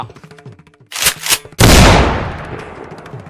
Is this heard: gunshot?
yes